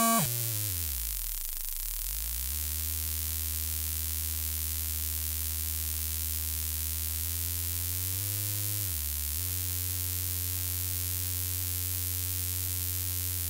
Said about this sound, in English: we have a lot of distortion, glitchy things